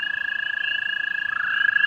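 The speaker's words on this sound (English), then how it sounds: "toads calling right now." Frogs and toads call steadily on a spring night, a loud, sustained trill pulsing rapidly without a break, with a second voice joining near the end.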